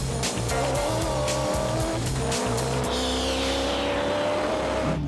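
Revo 1 four-wheel-drive car driven hard, its engine revving loudly through rapid gear changes before a rising high-pitched whine and tire squeal as it speeds away, close and continuous.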